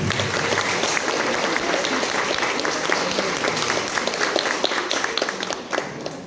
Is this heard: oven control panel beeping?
no